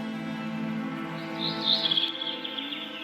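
Birds chirp at moderate distance in an open field, a light twittering bed with a brighter cluster of calls in the middle over steady background hum.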